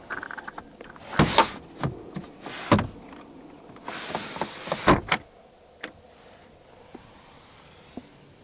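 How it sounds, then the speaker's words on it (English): Power window on a 2022 Hyundai Staria 2.2 CRDi Lite van opening as a vent, a few short motor whirs with clicks and thumps, close and fairly loud, then quieter ticks. "The windows right here open up as a vent."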